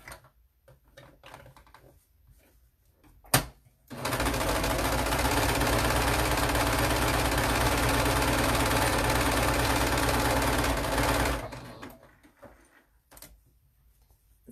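A sewing machine sews down the folded half-inch edge of a fabric facemask lining in one loud, steady, continuous run of about seven seconds. A sharp click comes just before it, and quiet handling noise can be heard before and after.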